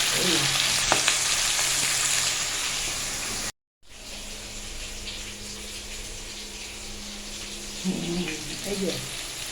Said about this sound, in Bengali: আর মাছটা ভাজছি, এইবার এই মাছটা দিয়ে ঝোল করবো